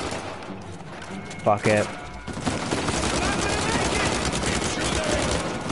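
Blind-fire gunshots in the Uncharted video game crackle as a dense rattling fusillade, loud and continuous in the second half after a brief spoken curse.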